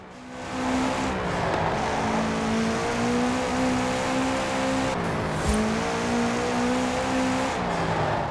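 A 2013 Subaru BRZ race build in Forza Horizon 4 driving hard, its engine droning steadily with shifts in pitch through gear changes and corners, close and continuous with a few faint tire noises.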